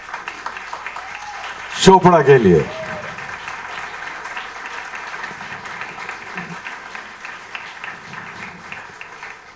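An audience at a ghazal night claps to welcome a singer, a steady, moderate patter of hands running under an announcer's amplified voice, with a brief louder burst early on.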